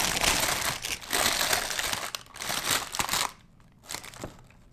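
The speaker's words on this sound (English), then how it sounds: "So I'm lining my dish with the parchment paper." Parchment paper crinkles and crumples in bursts as it is pressed into a dish for a raw vegan cheesecake, loud and close, with a brief pause before a final rustle.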